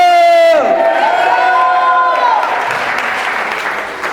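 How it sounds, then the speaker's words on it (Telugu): A church congregation claps loudly and shouts "Jesus" together, a sustained, near, full roar of applause and raised voices that swells after a brief sung or shouted tone and holds steady to the end. "గట్టిగా చప్పట్లు కొట్టి యేసు అందాం."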